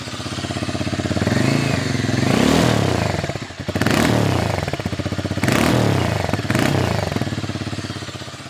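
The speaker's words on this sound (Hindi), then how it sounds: "what is fantastic is the exhaust note, जो कुछ इस तरह से आपको सुनाई देता है" A Harley-Davidson X440T motorcycle rumbles with a deep, throbbing exhaust note, rising and falling through several throttle blips over a steady idle, close and loud with no talk.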